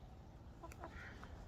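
Chickens, including chicks, in a backyard pen make a few soft, brief clucks and peeps midway through, faint against steady low background noise.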